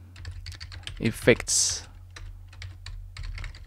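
Short burst of typing on a computer keyboard while a console command is entered in Unreal Engine 4, quick close clicks around and after a brief spoken word.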